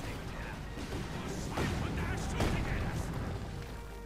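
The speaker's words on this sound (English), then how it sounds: "there we go, Rocket Strike. Hitting the support weapons, the tank a bit there" A Rocket Strike artillery barrage in Company of Heroes 2 hits support weapons and a tank, sending several heavy crashing impacts through a rumbling battle din under quiet talk.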